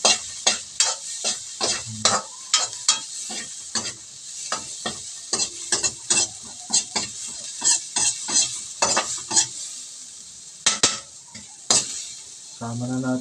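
Bicol laing ingredients are stirred and fried in oil in a pan, the utensil scraping and clinking in quick irregular strokes over a continuous sizzle, close and fairly loud with brief pauses.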